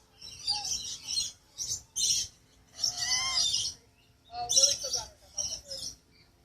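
Two pet birds fighting, trading repeated sharp chirps and squawks in short bursts, close by, with a person talking at times between them.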